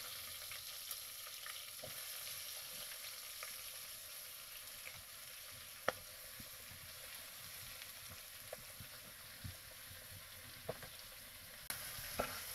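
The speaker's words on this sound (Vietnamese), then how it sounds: "bây giờ thì là cái món măng xào" Bamboo shoots stir-fried in a pan, with a steady quiet sizzle and occasional clinks and scrapes of the utensil against the pan, faint and continuous with no talking.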